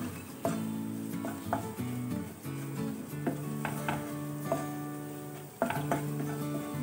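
Spices with salt cooking in a pan for a creamy soya chunks dish, a soft sizzle under light scraping and clinking of a spoon against the pan, quiet and close, with steady background hum.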